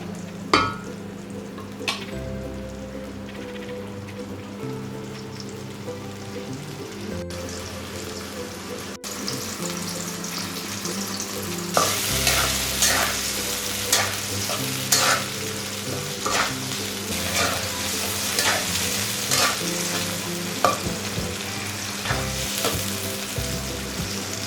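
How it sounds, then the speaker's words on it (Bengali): Prawns sauté in spice paste in a pan, a steady frying sizzle that grows brighter midway, punctuated by regular scraping stirs of a spatula, with faint water running in the background. "চিংড়ি মাছটা কষায় নেব।"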